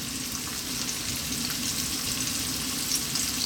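Carrots and cauliflower frying in a pan over medium heat, a steady dense sizzle that runs without a break, close and unbroken by talk.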